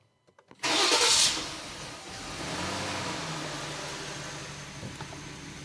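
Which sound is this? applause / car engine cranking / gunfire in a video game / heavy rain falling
car engine cranking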